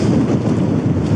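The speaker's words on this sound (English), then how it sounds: "so it's a little bit more windy" Steady broadband wind noise buffets the microphone on an exposed mountain area, a continuous low rumble with gusty swells and no voices.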